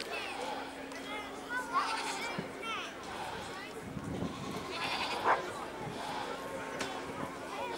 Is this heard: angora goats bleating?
yes